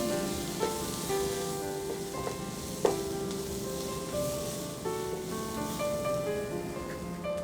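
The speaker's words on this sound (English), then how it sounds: "To this we'll add some capsicum. And we'll saute this on a medium flame for 2 minutes." Onions and capsicum sizzle steadily in a pan over a medium flame, with occasional stirring clinks and scrapes through a continuous frying hiss.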